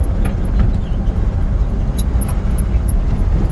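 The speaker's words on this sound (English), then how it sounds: "that's the speedometer squeaking" A worn speedometer in a 1950 Ford F1 truck squeaks in quick, repeated high chirps at an uneven pace, riding over a loud, constant engine and road rumble while driving.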